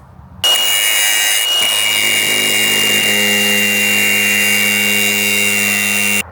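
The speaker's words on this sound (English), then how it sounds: "I'm just going to chuck a cutting disc on this grinder and I'm just going to chop that lock off." An angle grinder with a cutting disc slicing through a metal lock: after a short quiet start the motor whines up abruptly into a loud, sustained, high grinding screech that holds steady for several seconds before cutting off, close and continuous.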